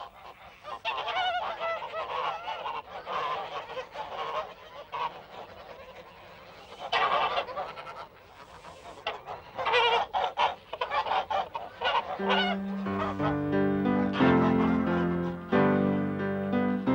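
A flock of geese honking in Gascony, a busy chorus of loud overlapping calls that grow denser and more insistent toward the end, close and continuous.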